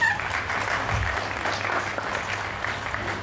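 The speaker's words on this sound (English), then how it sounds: "Kindly welcome with a round of applause." A round of applause fills a room at a get-together as a guest is welcomed, steady dense clapping from a crowd, moderately loud and continuous throughout.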